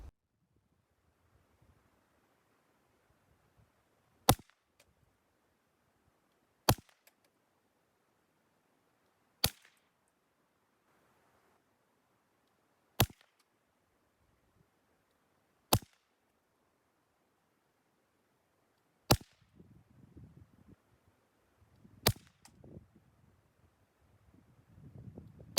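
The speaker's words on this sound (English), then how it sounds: "let's try some cheap Winchester 333 bulk pack hollow point" Taurus TX22 rimfire pistol firing Winchester 333 bulk hollow point rounds outdoors, seven sharp shots spaced a few seconds apart, loud and close, with wind noise in the background.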